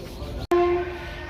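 A G7 diesel locomotive from the Gonda shed sounds its horn on a special train with old ICF coaches. After a brief cut, a single short, clear blast rings out and fades quickly over a low background rumble.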